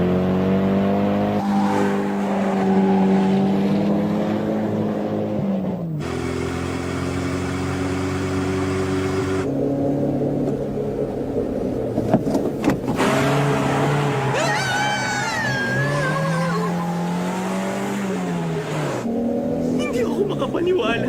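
Tuned street race cars in the Initial D anime movie approach on a mountain pass, engines revving and whining through gear changes with tire squeal, loud and continuous, while dubbed voices speak over the engine noise.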